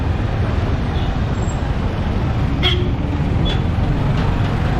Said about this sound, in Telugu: పొద్దున్నే ట్రాఫిక్ ఏంద్రా బాబు